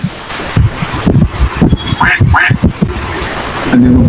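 A person imitates a duck's quack with a few short nasal calls amid breathy microphone noise and rustling, a close, loud, choppy voice sound during an online class session.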